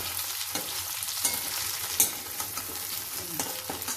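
Taro root (seppankizhangu) frying in a pan is stirred, giving a steady close sizzle with repeated scraping strokes and one sharper clank partway through.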